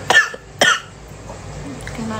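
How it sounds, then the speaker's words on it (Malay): Two sharp coughs in quick succession from a person in a hospital room, close and loud, then quiet room noise with faint murmurs. "Dia batuk pula."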